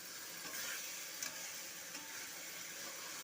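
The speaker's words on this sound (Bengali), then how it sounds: "পর আমরা এতে চাল দিয়ে দেবো, গোবিন্দভোগ চাল। এটাকে আমরা ভালোভাবে মশলার সঙ্গে মাখিয়ে নেব।" Gobindobhog rice being stirred with spices in an oily pan, a soft continuous sizzle with faint scraping strokes of the spoon, quiet and close.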